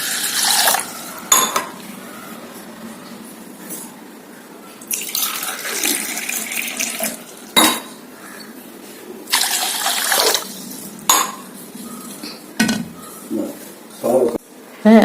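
Water is poured in repeated loud splashing bursts into a pot of soaked hand-pounded Mappillai Samba rice, with clinks of a tumbler against the pot between pours.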